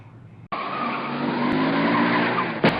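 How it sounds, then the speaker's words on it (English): Car tires screech in a radio ad sound effect: after a brief low rumble, a loud sustained skid bursts in abruptly and holds for over two seconds, ending with a short sharp hit. "You hear screeching tires, but you can't move."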